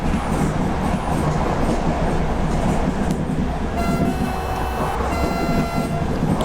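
A BB26000 electric locomotive hauling a freight train on the Paris-area 77-91 line in a train simulator game gives a constant loud rolling rumble, and faint high whining tones join in later.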